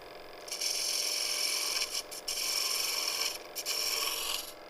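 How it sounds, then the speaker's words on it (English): A spindle gouge cuts wood on a lathe, giving a steady, close, hissing scrape that runs for several seconds, with two brief dips where the tool lifts off the spinning workpiece. "I usually just use the spindle gouge right away."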